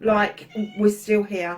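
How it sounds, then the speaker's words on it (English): A cat meows several times in short, close bursts, mostly overlapping a person talking indoors. "And I'm sorry about the cat."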